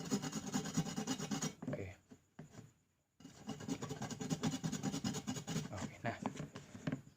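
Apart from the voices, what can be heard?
grating ingredients finely on a grater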